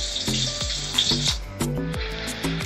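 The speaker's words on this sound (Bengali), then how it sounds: "এগুলো আমি একটু নেড়ে ছেড়ে দুনো পাশ ভালো করে ফ্রাই করে নিচ্ছি" Pieces of lotte (Bombay duck) fish fry crisp and brown in a pan, with a steady sizzling hiss under louder intermittent tonal sounds.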